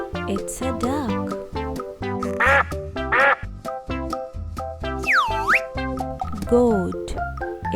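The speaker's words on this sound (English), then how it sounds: "It's a duck." A duck quacks in two short, nasal bursts set into a cheerful children's song with springy boing effects, close and clear above the music.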